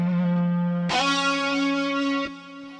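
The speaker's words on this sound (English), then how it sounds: "You hear sort of that distortion and the feedback." Sustained distorted electric guitar tones, sampled on an Akai MPC, with a harsh shift into squealing, ringing feedback partway through, loud and alone.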